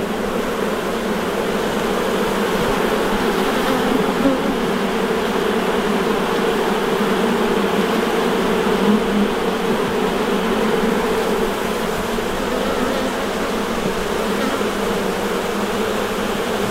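Honey bees drone and buzz steadily during a hive inspection among brood frames, a dense, continuous hum at close range with no talking.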